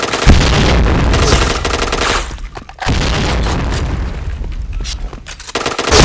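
Gunfire in the shooter video game Point Blank, rapid machine-gun bursts in dense, loud volleys with brief gaps between them, close and punchy, a voice faintly present underneath.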